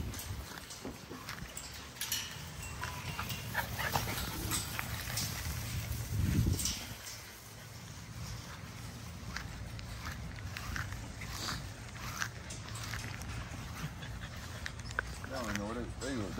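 Puppies at a home kennel whimper, pant and nip at each other close by, with scuffling and a high whine near the end, over steady background noise and occasional voices.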